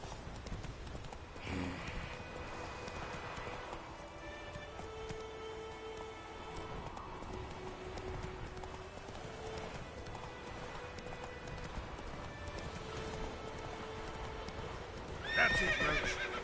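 A horse gallops in the video game The Witcher 3, its rapid rhythmic hoofbeats pounding steadily and close, with a whinny rising near the end.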